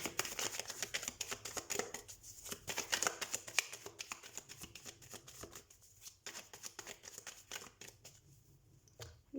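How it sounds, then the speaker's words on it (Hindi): Tarot cards being shuffled by hand: a steady run of quick riffling, snapping flicks close to the mic, continuous with brief pauses and no talking. "तो हम कार्ड शफल कर लेते हैं"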